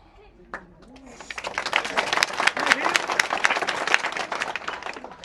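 An audience claps during a political speech in Gujarat, the applause swelling from a scattered start into steady, fairly loud clapping, with voices heard at the start and mixed into the crowd.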